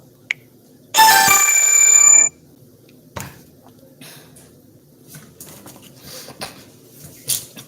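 A phone ringtone for an incoming call rings loudly for about a second and a half, a bright repeating electronic melody, then stops, leaving quieter room sounds and faint movement.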